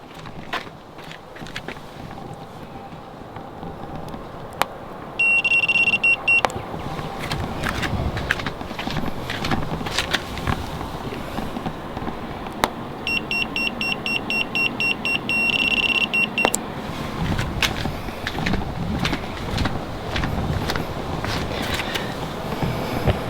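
A TPMS programming tool held against the Schrader valve of a Maserati GranTurismo tire sensor, giving two separate bursts of rapid high-pitched beeps amid scattered clicks and low background noise.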